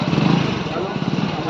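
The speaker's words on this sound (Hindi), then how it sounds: "ये मेरे दोस्त हैं जो जा रहे हैं बाइक से" A motorcycle engine chugs in a short, close, rough burst as the bike rides off, mixed with background voices.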